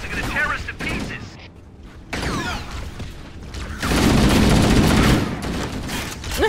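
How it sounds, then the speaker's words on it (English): Stationary gun turrets fire in Halo: Combat Evolved, a dense rattling fusillade with booming impacts that swells loud in the second half, layered over other battle noise. "Those stationary guns are gonna tear us to pieces."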